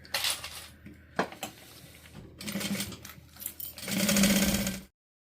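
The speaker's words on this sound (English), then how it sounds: "I'm going to top stitch across the end here and then come back down doing the same thing." Bursts of fast sewing-machine stitching run a topstitch around the end of a zipper on fabric, separated by pauses and small clicks, with the longest, loudest run just before the motor stops dead.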